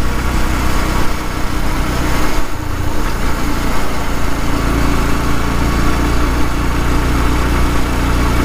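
A motorbike engine runs steadily while climbing a mountain hairpin road at Kolli Hills, a constant near drone with a low throbbing hum and broadband road and wind noise, with no talking.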